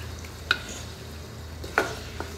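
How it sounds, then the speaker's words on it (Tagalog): Baguio beans and boiled eggs are stirred in a pan over a low sizzle, with two sharp scrapes of a utensil against the pan and a fainter tap at the end. "haluin natin para magkalasa ang ating itlog"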